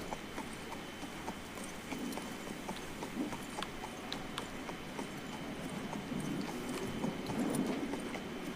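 Horse hooves clip-clop at a slow, steady walk through a town in the video game King's Bounty 2, moderately close and continuous, with soft ambient town noise behind them.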